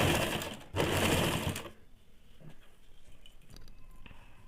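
Sewing machine running a straight stitch along piping on a salwar, a loud close mechanical whir for about a second and a half before stopping, followed by faint handling sounds.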